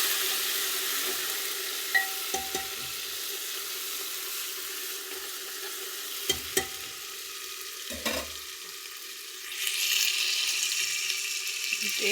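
Garlic, about a spoonful, sizzling in very hot oil in a pan: a continuous close frying hiss with a few clinks and stirring scrapes, swelling louder near the end.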